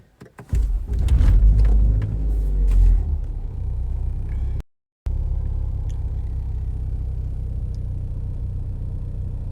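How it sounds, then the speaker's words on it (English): A Ford Focus ST fitted with an Invidia Q300 exhaust cranks and fires up with a deep rumble that settles into a low, steady idle, close by, with a brief gap of silence midway. "All right, here's what it sounds like on startup."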